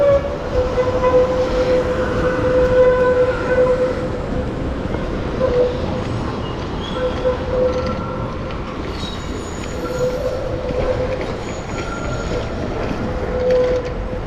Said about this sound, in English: Here's one of the older style of trams.